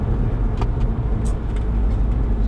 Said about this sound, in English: that metallic-y raspy noise we get from the exhaust